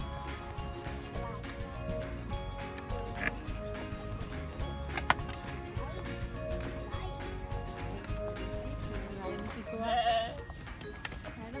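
Sheep at a cafe give a brief bleat near the end, set against a busy, fairly quiet background of ambient sound and faint voices.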